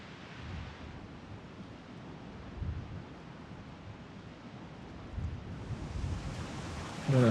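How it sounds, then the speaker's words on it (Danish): Strong wind gusts buffet an outdoor spot, a low roaring rush that swells in several surges against a constant blustery background, with no speech. "Det er kraftigt meget vind."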